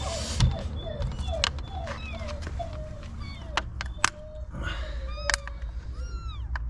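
A cat meows repeatedly in short, rising cries, close by, with occasional clicks and bumps in the background.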